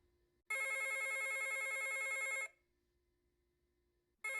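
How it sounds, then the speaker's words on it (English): An electronic telephone ring sounds in a loud two-second trill, falls silent for nearly two seconds, then starts ringing again, clear and close with no voices. "the phone rings in the middle of the night"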